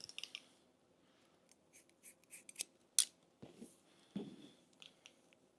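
Scissors cut a man's medium-length hair in a classic haircut, with a series of crisp snips in an irregular rhythm, some quick and some spaced out, heard up close in a quiet room.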